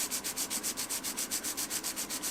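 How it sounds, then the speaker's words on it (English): A Scandi grind knife is hand sharpened on a stone with steady forward and backward strokes, making a soft rhythmic scraping rub repeated about ten times, close and fairly quiet. "going forwards and backwards, concentrating on certain areas where I need to"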